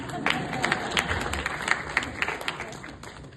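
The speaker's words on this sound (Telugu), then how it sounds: "మళ్ళీ చప్పట్లు కొట్టవచ్చు." Audience applause at a gathering after remarks about music albums, a dense patter of many hands clapping steadily throughout, moderately close, with faint voices mixed in.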